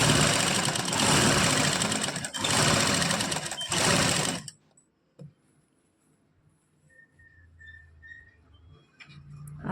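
A sewing machine runs loud and close, stitching along a chalk-marked line for piping on fabric, in steady bursts with two short pauses, then stops and leaves quiet handling noises.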